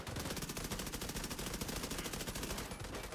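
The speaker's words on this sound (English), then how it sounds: "Now you about to get gunned down by my LMG" Sustained LMG machine gun fire in the Division 2 video game, a dense rapid burst of shots rolling on loud and close without a break for the whole stretch.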